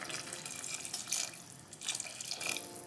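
Broth pours over pasta in a pan with a light, continuous splashing trickle that swells briefly in two bursts.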